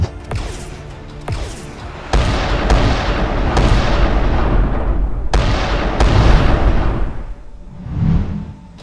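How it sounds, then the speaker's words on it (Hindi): Cartoon-style gunfire and explosion effects in a ship battle with smugglers: repeated loud booms and sharp blasts over a heavy rumbling barrage. "उधर शिप के अंदर से स्मगलर लगातार फायरिंग कर रहे थे"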